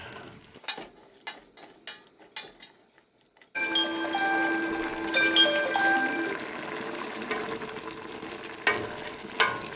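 Green peppers and tomatoes fry in a pan for pepper steak. A few sparse clinks and stirring knocks open the sound, then a steady, fairly loud sizzle takes over and holds to the end.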